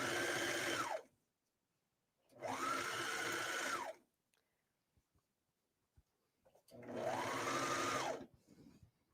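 A serger stitches binding onto a knit tank top in three separate bursts of about one to two seconds each, close and steady, with quiet fabric handling between them.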